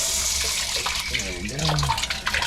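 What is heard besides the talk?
water draining from a decompressed main water line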